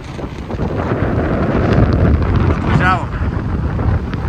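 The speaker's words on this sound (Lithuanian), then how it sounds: "jūra šėlsta, uraganinis vėjas" Strong wind at the seashore buffets the microphone in a loud, continuous roar with rumbling gusts, and a voice briefly comes through near the end.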